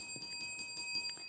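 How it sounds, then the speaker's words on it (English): A bell on a high school quiz show rings to end the opening round, a faint series of quick, evenly spaced bright dings over a quiet background. "And that's the bell."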